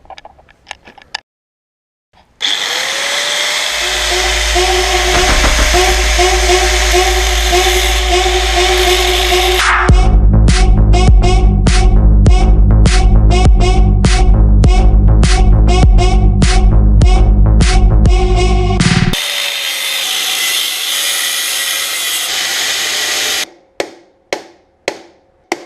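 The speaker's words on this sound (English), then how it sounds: "I'm literally just going to chop the frame." A power tool cuts through a frame, starting as a steady loud whine, then turning to a rapid rhythmic chopping for several seconds before returning to a continuous grind, with a few sharp knocks at the end.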